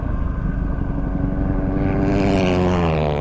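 A Yamaha WR250R and a Finke race motorcycle drone loudly at close range, a steady engine tone that rises in pitch toward the end as they pull away together.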